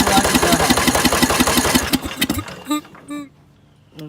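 An old lawn mower engine cranks and fires into a rapid, loud, rhythmic chug that runs steadily, then sputters and dies, leaving a few brief restart coughs with near silence between them.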